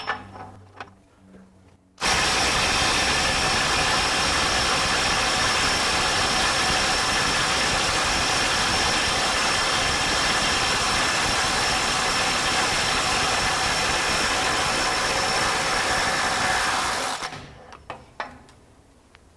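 A RIDGID mid-torque impact wrench (R86012) runs on a socket, giving a loud, steady mechanical hammering buzz for about fifteen seconds without a break. It starts and stops abruptly, with quiet handling noise before and after.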